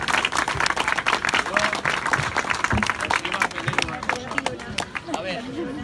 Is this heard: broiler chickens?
no